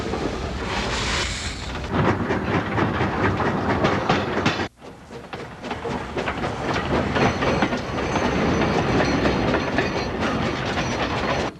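Replica 19th-century steam locomotives Jupiter and No. 119 at Golden Spike National Historic Site, Promontory, Utah, run past loud and close, with continuous rumbling and rhythmic clickety-clack of wheels on rail and a brief drop near the middle.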